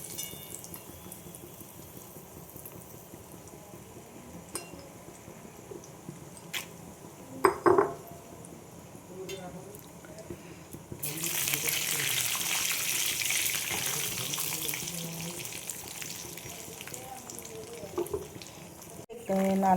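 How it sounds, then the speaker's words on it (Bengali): Dry fruits tipped into a hot pan for sweet rice: after quiet kitchen clatter and a few clinks, a loud, sustained sizzle breaks out midway and holds to the end. "তো আমি আগে ড্রাই ফ্রুটগুলো ভেজে নেব।"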